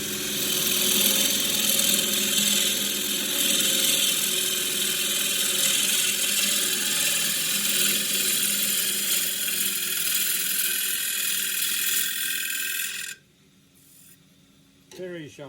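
A 3/8 bowl gouge cuts a rough-turned wooden bowl spinning on a lathe, giving a loud, steady rushing shear with a low motor hum for about thirteen seconds before stopping abruptly, then a brief faint scrape.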